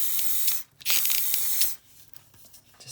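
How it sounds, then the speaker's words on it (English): A can of clear satin sealer spray is fired in two short bursts at close range, each a loud, sharp hiss separated by a brief pause, followed by softer handling noise. "Give it a quick spray"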